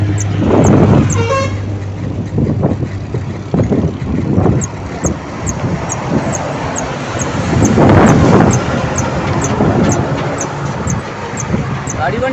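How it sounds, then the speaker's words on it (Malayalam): A vehicle with a modified silencer passes while horns toot repeatedly, over loud road rumble and wind buffeting on the microphone; a voice speaks over the traffic. "സൈലൻസർ കൂട്ടിയ വണ്ടി"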